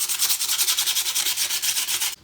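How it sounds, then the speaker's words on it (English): Sandpaper rubbed by hand over a wooden knife handle from a Pathfinder Camp King kit, a quick run of about eleven rhythmic gritty strokes, close and alone, stopping abruptly near the end. "I'm going to do that with sandpaper"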